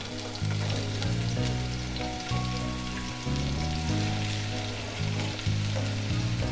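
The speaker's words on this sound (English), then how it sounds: "this time round we use oil. So that we can fry our onion." Onions frying in oil in a pot give a steady, close sizzle with crackling, broken by brief pauses and by stirring.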